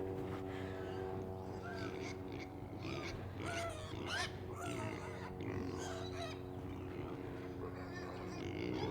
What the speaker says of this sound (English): Pig's really hungry this morning.